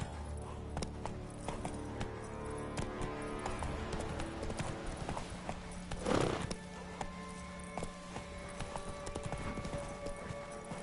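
Horse hooves clip-clop steadily in The Witcher 3 video game, a brisk, even rhythm of hoofbeats with a brief snort or whinny partway through, over faint game ambience.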